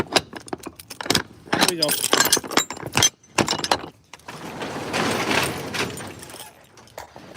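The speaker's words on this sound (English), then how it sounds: "Let me grab my keys." Keys jangle close by in short rattling bursts as they are grabbed outdoors beside a truck, followed by a longer rustling stretch, with someone talking between the bursts.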